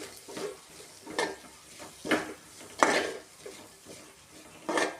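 Spice masala for a chicken curry frying in a pan, heard as a low sizzle broken by repeated scraping strokes of a spoon against the pan, about one every second, close up and without talk.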